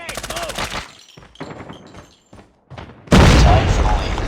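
A grenade goes off in a Call of Duty Mobile multiplayer deathmatch, a loud sudden blast arriving after scattered game voice callouts and gunfire, then a sustained roaring burst filling the rest.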